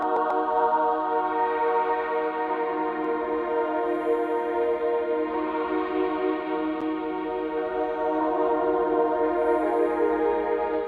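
A sustained synth pad from the Analog Lab 5 Supernatural Angels preset in a dark melody holds soft, airy chord tones steadily throughout, smooth and even in volume, with faint shimmering high accents and no voices.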